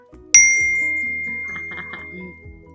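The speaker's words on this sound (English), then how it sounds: "My phone is blowing up right now." A phone notification chime rings once, a bright, clean ding that rings out and slowly fades, with a low background hum and no talking over it.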